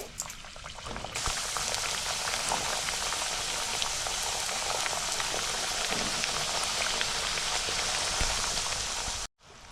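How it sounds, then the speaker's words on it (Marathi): Methi puri made from fenugreek and maida dough deep-fries in hot oil, a loud, dense, continuous bubbling hiss that starts abruptly after about a second and cuts off sharply near the end, close-up with no talking. "तेल गरम झालेलं आहे आता आपण काय करते मी पुरी तळायला सोडते"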